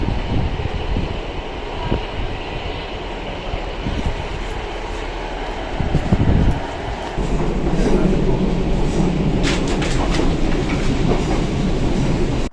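A train rolls along rails through west England, a steady loud rumble with rhythmic clickety-clack from the wheels. The wagon noise swells for a moment and keeps on without speech.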